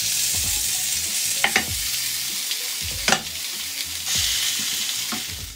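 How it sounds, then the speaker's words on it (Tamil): Ground green peas for a kachori filling sauté in hot oil over a low flame, giving a steady close sizzle broken by a few soft scrapes of a stirring spoon, with no voices. "அடுத்து நல்லா சிம்மில் வச்சுட்டு 1 செகண்ட் இதை நல்லா வதக்கிக்கோங்க அந்த எண்ணெயில்"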